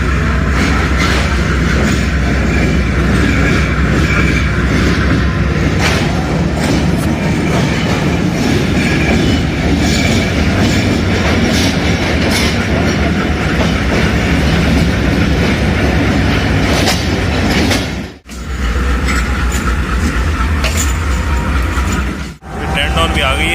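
Pakistani passenger train hauled by G30 locomotive 6004 running between Rohri and Karachi, a loud continuous rumble with rhythmic clickety-clack of wheels over rail joints, heard from on board, with brief dips near the end.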